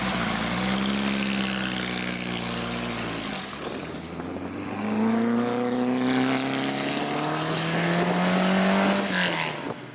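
A Porsche 718 RSK race car engine revs hard, its pitch climbing and then dropping back to idle before winding up again. The loud, raw, mechanical note is heard close and alone.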